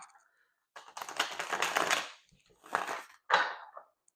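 Tarot cards riffle and flap in several quick bursts separated by short pauses, close and fairly soft.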